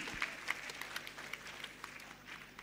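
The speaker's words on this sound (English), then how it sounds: "the clapping must go" Scattered, fairly faint clapping from an audience as speakers walk to a podium at a college event, a handful of distinct claps over a low murmur of the room.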